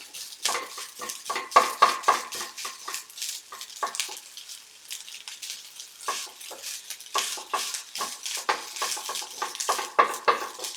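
Metal utensil scraping and stirring fried rice in a riveted frying pan, steady irregular clinks and scrapes with a soft sizzle underneath, close and alone.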